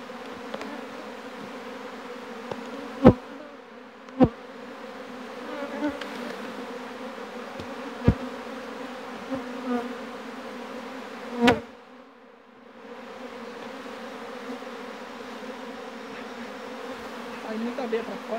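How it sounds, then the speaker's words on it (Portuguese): Apis honey bees drone in a dense, continuous buzz around an opened hive during an inspection, broken by a few sharp knocks and clicks of handling. "Aí muita abelha pra fora."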